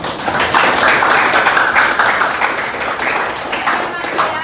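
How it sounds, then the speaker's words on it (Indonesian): Students in an Indonesian classroom applaud during an academic coaching and supervision lesson, a dense, steady round of clapping that lasts the whole span with some voices mixed in. "beri tepuk tangan lagi"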